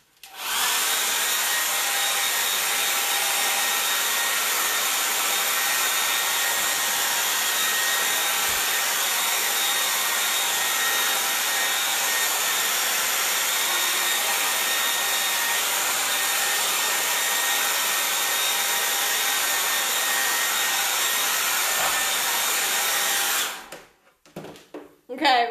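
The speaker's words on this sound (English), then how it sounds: "Now I'm just going to dry it off with the hairdryer." A hair dryer blows with a loud, constant whooshing hiss for over twenty seconds, then switches off and a few clicks follow.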